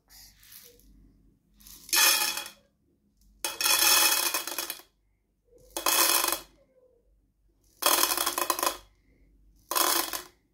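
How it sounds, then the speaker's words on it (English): Dry dal lentils are poured into an empty Pringles tin to make a shaker. Five loud rattling pours land in separate bursts with quiet gaps between them, close up and with no voices. "Now I'll put the dal inside the Pringles box."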